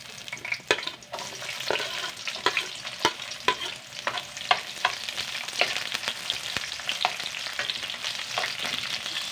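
Chopped onions fry and sizzle in a pan for a lechon dish, a continuous crackle broken by frequent sharp scrapes and clicks of a spatula stirring. The sound is close, with no talking.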